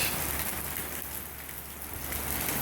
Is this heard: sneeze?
no